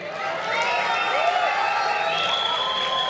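A college cultural festival audience fills the hall with steady, loud applause and crowd noise, with a few whistle-like tones rising above the sustained clapping for about three seconds.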